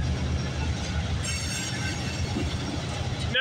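Boxcars of a CPKC freight train roll past at night on the Galt Subdivision, a close, steady rumbling clatter with a thin wheel squeal partway through.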